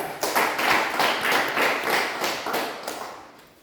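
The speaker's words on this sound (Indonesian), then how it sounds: "Kita tepuk tangan untuk kelompok 3." A classroom group claps together for group 3, a dense burst of many hands lasting a few seconds before thinning out toward the end.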